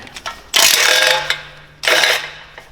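An 11mm socket on a ratchet loosens nuts from a BMW S54 exhaust manifold, giving two long, loud bursts of rapid clicking separated by a short pause, up close with no talking.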